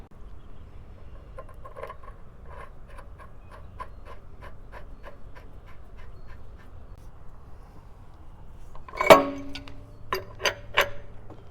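Cheap hand-operated hydrotest pump pushing water through plumbing, a steady rhythm of soft squeaky strokes, then a few sharper clanks and hisses near the end, close and without talk.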